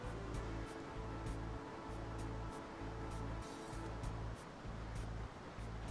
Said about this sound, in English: this incredibly loud waterfalls scene